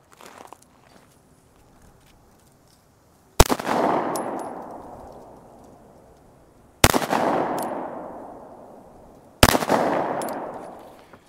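FN FNS-9C 9mm pistol fired at a shooting range: three sharp, loud single gunshots spaced a few seconds apart, each with a short echoing decay, after a quiet opening.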